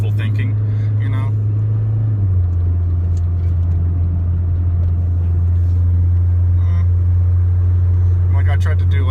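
A car fitted with a Megan Racing strut bar drives back up a twisty road, its engine a loud, steady in-cabin drone that drops in pitch early on and then holds, while people talk.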